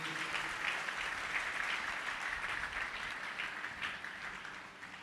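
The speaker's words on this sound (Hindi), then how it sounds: "ताली उस यीशु के लिए।" A church congregation applauds for a steady stretch of several seconds, dense clapping throughout that tapers only slightly toward the end, with no speech over it.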